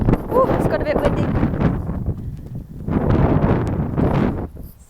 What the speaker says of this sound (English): Ooh, it's got a bit windy.